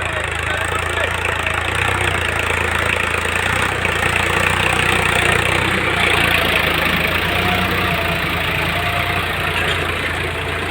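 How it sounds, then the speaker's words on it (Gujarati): A tractor engine drones steadily while pulling a cultivator through a field, a loud, continuous low rumble without breaks or voices. "નરેશભાઈ પોતે ટ્રેક્ટર ચલાવજો ખેડતા."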